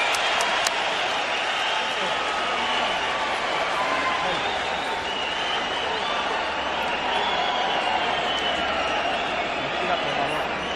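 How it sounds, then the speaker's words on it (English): A boxing arena crowd rises during a fight between Juan Manuel Marquez and Marco Antonio Barrera, a broad roar of cheering and clapping that stays constant, with a commentator's voice running over it. "And the crowd rises to appreciate the intensity of this war."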